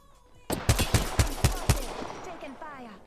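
Rapid bursts of gunfire from a shooter video game, about six sharp, loud shots in quick rhythm, then a fading tail.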